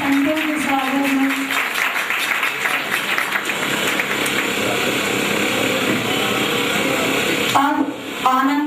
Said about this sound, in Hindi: सभी लोग ताली बजाएंगे संतों के स्वागत में।